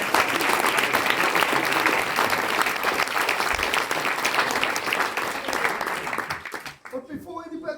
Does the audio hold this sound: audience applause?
yes